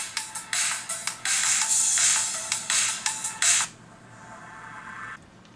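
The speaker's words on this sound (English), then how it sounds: "let's see what happens when somebody calls your phone" An HTC Desire phone sounds its incoming-call ringtone, a bright, rhythmic series of chiming pulses that plays loudly for a few seconds and then cuts off, leaving faint background hiss.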